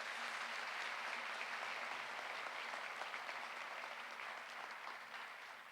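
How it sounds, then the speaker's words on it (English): A steady, dense wash of crowd applause at the Fike High School 2019 graduation ceremony, holding at even loudness and easing slightly toward the end, with no talk over it. "Let's give them both another round of applause, please."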